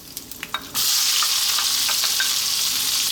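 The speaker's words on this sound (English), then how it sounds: "Now I'm going to drop in my onion." Onion drops into hot oil in a pan for a chickpea potato curry: a few light taps, then a sudden loud, sustained sizzle that holds steady and close.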